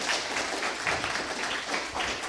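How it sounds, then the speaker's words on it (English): A conference audience applauds two speakers after the final talk of the day, steady clapping from a crowd sustained throughout, with a faint voice beneath. "Can we get a round of applause for these guys, Boris and Tom?"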